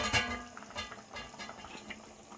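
Andhra-style chicken curry simmers under a lid to thicken, giving a soft, steady bubbling and sputtering with small irregular pops, close and quiet, with no talking.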